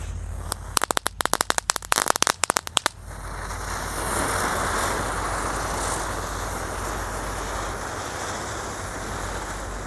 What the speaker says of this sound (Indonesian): Ada 8 gangsing guys yang kita nyalakan secara bersama.